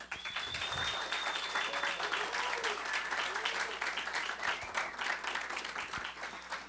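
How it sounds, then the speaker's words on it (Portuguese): Audience applause at a national leadership workshop and networking meeting in Brazil, sustained dense clapping from a crowd lasting the whole stretch, loud and even. "vai dar uma salva de palmas para essa super professora Márcia Barreira"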